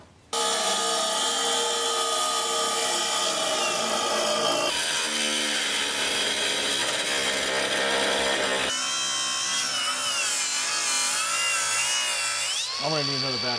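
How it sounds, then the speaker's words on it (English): A cordless grinder works metal on a trailer, giving a loud, continuous high-pitched whine whose tone shifts as the load changes, then cuts out briefly near the end. "just basically stick a grinder in there now and clean that up"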